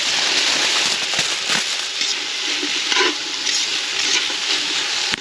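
Onions and garlic sizzle steadily in a hot pan at a campsite, a dense, even hiss that runs throughout with a few soft clicks and stirring bumps.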